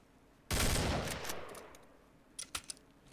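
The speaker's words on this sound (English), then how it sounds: "AK-47 for something different." A sudden loud burst of AK-47 rifle fire in a video game rings out and decays, followed a moment later by a few sharp clicks and thuds.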